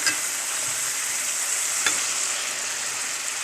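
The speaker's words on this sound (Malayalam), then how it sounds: "ഇനി നമുക്ക് കോവയ്ക്ക വറുത്തത് ഇതിലേക്ക് കൊട്ടാം." Fried ivy gourd being stirred into a cooked ground masala in a pan gives a steady, close sizzle with soft scraping of the spoon, no voices.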